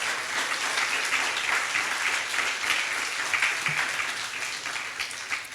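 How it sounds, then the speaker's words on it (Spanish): Steady, sustained applause from a church congregation praising the Lord, a dense wash of clapping filling the room for several seconds without pause or speech. "Denle un aplauso al Señor"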